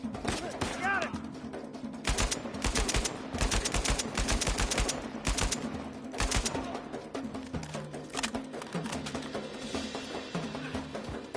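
Gunfire in the action game Uncharted 4: A Thief's End breaks out in rapid bursts and scattered shots amid game ambience, with someone talking over parts of it.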